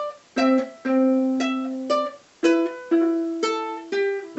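A ukulele picks out the opening phrase of a melody, single plucked notes in a steady rhythm with short gaps, bright and close with no voices over it.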